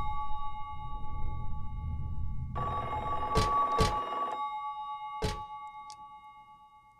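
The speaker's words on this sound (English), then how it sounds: "This isn't the locker that's ringing." A phone ringing inside a locker in the video game Silent Hill 3, a steady electronic tone followed by a few sharp bell rings that fade, close and clear with no talking.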